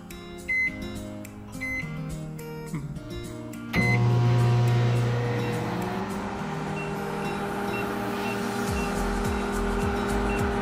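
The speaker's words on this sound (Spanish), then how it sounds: "Puedo sentir cómo me pega el airecito del microondas, lo cual puede ser bastante radiactivo." A microwave oven hums steadily after a few button beeps, with a louder rise in the running drone once it starts, heard up close in a home kitchen.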